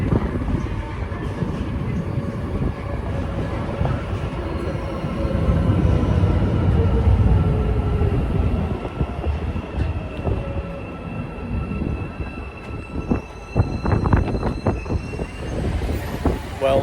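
A diesel multiple unit train passes at a station in Istanbul, a steady loud rumble of wheels and engine throughout, with metallic squeals and clanks building toward the end.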